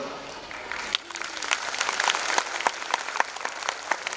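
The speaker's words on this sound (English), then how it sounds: "Please give them a big round of applause." An audience at a school annual function breaks into applause that builds from scattered claps into denser clapping, with a voice speaking faintly at the start.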